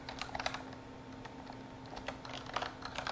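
Typing on a computer keyboard, a quick irregular patter of light key clicks close by, with short pauses between bursts and no talking.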